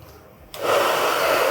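A hair dryer switches on partway through and runs with a steady, loud, airy whoosh and motor whine.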